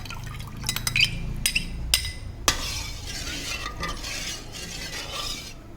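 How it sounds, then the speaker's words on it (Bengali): Soaked saffron milk is poured into a pan of hot milk, beginning with a few glassy clinks and then a soft, steady liquid pour that continues to the end. "ভিজিয়ে রাখা কেশর দুধটা ওই গরম দুধের মধ্যে দিয়ে দিচ্ছি"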